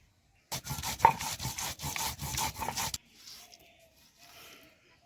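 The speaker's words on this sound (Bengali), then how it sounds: "কাঁচা লঙ্কা রসুন লবণ আর এইটে কাঁচা জোয়ান এই সঙ্গে দিয়ে দিব একসঙ্গে জোয়ান দিয়ে বেটে নেব" Green chilli, garlic, salt and ajwain are ground into a paste with about a dozen quick rhythmic rasping strokes close by. The strokes stop abruptly, leaving faint background noise.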